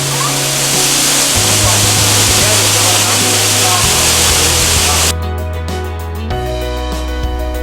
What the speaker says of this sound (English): We finally made it to the waterfalls and decided to take a cool plunge in the icy water.